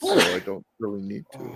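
A sharp, loud sneeze erupts up close, then a person speaks briefly afterward.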